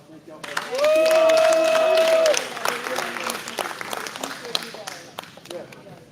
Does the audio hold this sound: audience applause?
yes